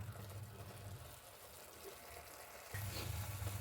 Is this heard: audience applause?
no